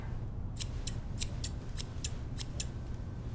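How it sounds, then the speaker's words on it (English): Scissors handled and snipped, giving about nine crisp, quick metallic clicks in an uneven rhythm, quiet and close, with no voices over them. "Before I left, I wanna give you these. My scissors."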